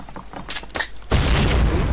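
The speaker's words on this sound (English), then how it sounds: "Pick up the frag grenade." A frag grenade explodes in Call of Duty's Normandy landing, a heavy boom that erupts into sustained rumbling blast noise after a few sharp clicks and clanks of handling.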